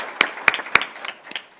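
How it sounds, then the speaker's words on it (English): A meeting audience offers a brief round of applause: three sharp claps near the start, followed by a few scattered, fainter claps that fade out. "We'll go ahead and give you a round of applause"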